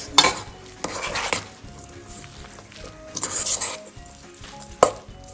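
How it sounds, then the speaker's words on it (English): Potato sandwich filling with cilantro is stirred in a pan, with scraping strokes and occasional sharp metallic clinks over a faint sizzle, the sounds coming close and fairly loud in uneven bursts. "You will give all of this a good mix."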